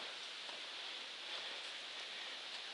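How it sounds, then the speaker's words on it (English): Caesar Brook flows over a rock staircase on a trail, giving a steady, dense rush of water that stays even and fairly close throughout, with no voices. "So this is Caesar Brook."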